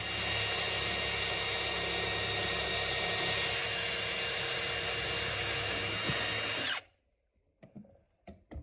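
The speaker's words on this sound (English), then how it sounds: "So we're going to go through here with a drill" A power drill bores through wood in a house wall during a yellowjacket wasp nest removal, a steady, loud whine for about seven seconds that cuts off abruptly, followed by a few faint knocks.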